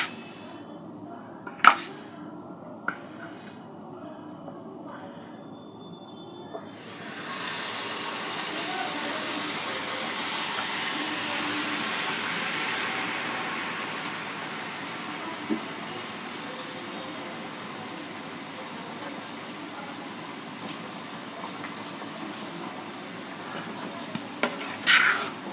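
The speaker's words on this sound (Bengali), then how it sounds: "এভাবে করে আমি প্রত্যেকটা পিঠা ভেজে নেব।" Puya pitha cakes drop into hot oil, setting off a sudden broad hissing sizzle that stays steady and gradually softens, after a few sharp clinks of utensils at the start and end.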